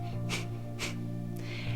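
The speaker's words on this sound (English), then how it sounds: "So it's a very forceful exhale through the nose" Three forceful nasal exhales of the breath-of-fire breathing exercise, sharp bursts spaced about half a second apart, close and clear over a steady low background hum.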